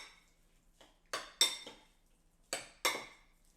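A utensil stirs pepper into bok choy soup in a metal pot, giving a handful of distinct clinks and scrapes spaced apart, close and otherwise quiet.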